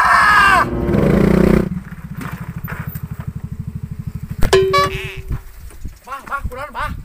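Village ojek motorcycle engine idling in a rapid, pulsing putter for several seconds, then revving and cutting off, with a voice shouting near the start and bleat-like vocal sounds near the end.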